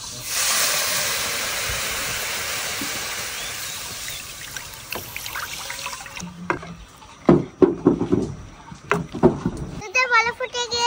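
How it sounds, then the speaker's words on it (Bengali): Milk heats in a wok before sago goes in, giving a steady close hiss for several seconds, followed by scattered utensil clinks and knocks with a voice speaking over them. "কড়াই বসিয়ে দিচ্ছি, তো এবার দুধটা সুন্দর মতন জাল দিয়ে দিব।"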